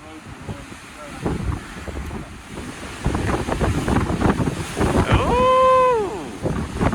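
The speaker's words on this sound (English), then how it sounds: "So we're getting 60 to 80 mile per hour gusts." Strong wind gusting at 60 to 80 mph in Yosemite National Park buffets the microphone in loud, roaring gusts, with water sloshing beneath and a voice briefly calling out near the end.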